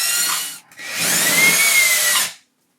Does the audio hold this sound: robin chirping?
no